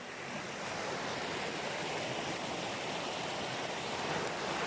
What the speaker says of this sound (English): This is a little burn I've got across here.